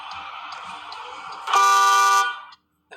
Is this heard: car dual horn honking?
yes